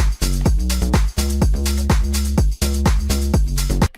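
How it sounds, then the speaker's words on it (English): A distorted synth sub bass plays in a repeating electronic dance loop, with heavy low pitched notes that drop in pitch, gritty upper harmonics and steady rhythmic pulses, loud and upfront with brief gaps between phrases. "This actually is the sub bass, which sounds pretty cool."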